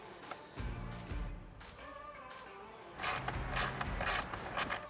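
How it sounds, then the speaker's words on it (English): A ratchet with a T20 bit works the screws out of a C8 Corvette steering-wheel paddle, giving close mechanical clicks and brief ratcheting bursts, busiest near the end and no talking. "using our T20 and ratchet, we are going to remove the two screws on the top and bottom of this paddle"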